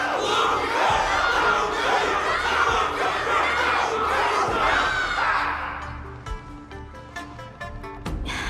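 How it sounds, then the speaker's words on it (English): A large crowd roars and cheers loudly and continuously in the video game Honkai: Star Rail, the dense shouting fading away over the last couple of seconds as a musical score emerges. "Everyone's cheering for you, Luca!"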